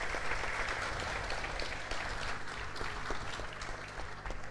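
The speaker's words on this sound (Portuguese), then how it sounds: "Ok, uma salva de palmas" An audience at a football club's squad presentation applauds with steady, moderately faint clapping, heard from a distance under a low hum.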